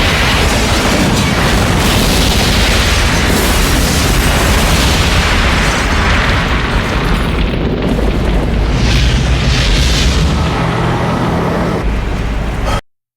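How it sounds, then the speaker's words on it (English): A rocket blast blows apart a truck on a mountain road in the game Chill Factor, a loud sustained explosive roar with rumbling debris that fills the whole stretch and cuts off abruptly. "He whips out a rocket launcher and blows up a truck in the middle of the road"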